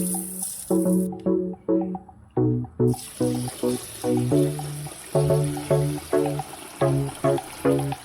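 Rice is washed under running water in a sink, with a tap running and water sloshing in bursts that come in an uneven, repeating rhythm.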